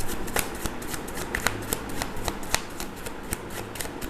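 Tarot cards are shuffled and drawn by hand, producing a rapid series of crisp flicks and snaps over a soft background hum, continuing steadily throughout.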